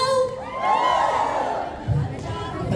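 A crowd of worshippers shouts and cheers together in a short, loud burst at an El Shaddai church anniversary gathering in Parma, Italy, with the roar swelling and then easing off.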